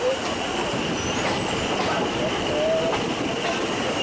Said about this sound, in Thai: ยามเช้าครับรถไฟวิ่งผ่านต่อในหมอกครับ